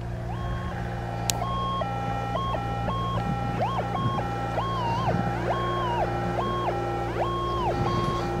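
A metal detector gives a warbling electronic tone over an iron target in the dirt, repeated pulsing bends up and down over a steady hum.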